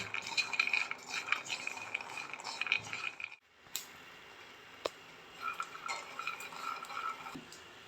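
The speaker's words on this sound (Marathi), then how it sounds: "हे शेंगदाणे भाजताना मी त्याच्यावर फक्त अर्धा चमचा तेल घालून घेते" Peanuts roast with half a spoon of oil in a pan and are stirred, making a faint, continuous dry rattle and light ticking that breaks off briefly partway through, then resumes softly.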